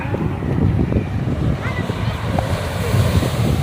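Sea waves break and surge along the coast at Poompuhar, a steady, loud wash of surf mixed with wind buffeting the microphone, with faint voices underneath.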